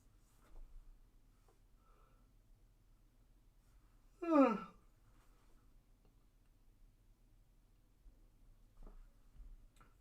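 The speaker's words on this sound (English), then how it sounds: "Apologise for the yawning." A single drawn-out yawn from a person during a live West Ham United vs Leicester City football watch-along, voiced with a falling pitch and heard close and alone against a quiet background.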